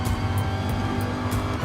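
A race car drives at the Maggiore circuit in GT Sport, its engine holding a loud, steady, close drone throughout, with no talk.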